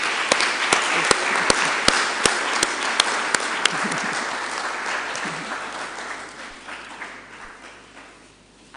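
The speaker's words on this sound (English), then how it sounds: "let's give a round of applause for" An audience at a university inaugural lecture claps loudly at first, with sharp individual claps standing out, then the applause gradually thins and fades away.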